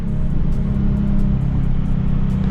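A Nissan 370Z engine blips on its own to match revs on a downshift, giving a loud, steady, close rumble with a slight rise and no voices over it.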